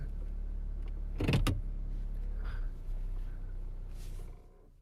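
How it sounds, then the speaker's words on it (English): A car engine starts with a short loud burst of cranking and catching, then settles into a low steady idle rumble that fades near the end. "He's starting the car."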